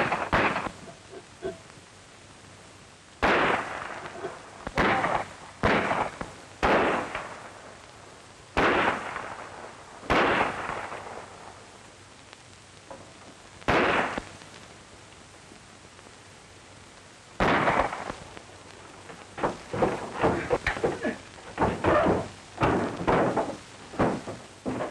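Gunfire in a Western shootout, sharp irregular shots and short bursts, some single and some in rapid clusters, loud against a quiet background with gaps between volleys.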